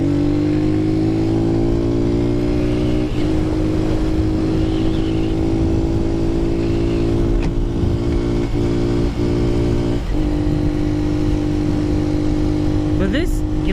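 A Lifan KP 150 Mini motorcycle engine drones loudly and steadily while riding at about 50 mph, with a harmonic hum and wind rush and a brief pitch shift near the end.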